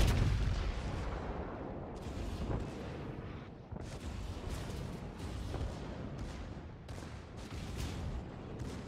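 Incoming naval gunfire in World of Warships: a steady roar of battle with repeated heavy shell blasts and booms spread at irregular intervals.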